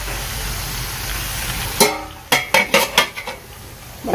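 A lid goes onto a cooking pot of chopsuey. One metallic knock is followed by a quick series of rattling clinks as it settles, heard close and alone.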